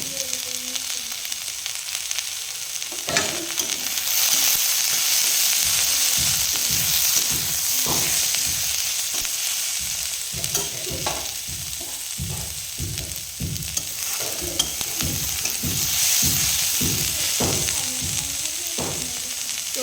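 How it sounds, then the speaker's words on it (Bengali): Empty pea pods seasoned with salt and turmeric fry in a pan, a steady close sizzle running throughout with repeated scraping and stirring strokes in an irregular rhythm, no voices. "ভালো করে ভাজা ভাজা করে নেব"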